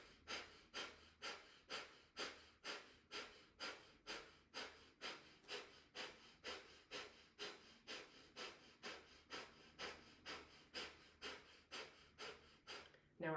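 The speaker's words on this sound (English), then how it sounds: "Fast breathing, pumping from right here in the diaphragm, even though the hand is not there. In and out through the nose," Rapid, rhythmic breathing in and out through the nose with sealed lips, driven from the diaphragm in a detoxifying breath exercise, about two sharp breaths per second, close and steady throughout with no talking.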